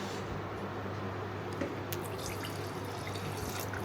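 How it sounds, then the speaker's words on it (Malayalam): Juice and water pouring and dripping in a steady, close trickle while cooking, with a few small splashes and no talking. "കുറച്ച് വെള്ളം ഒഴിക്കാം"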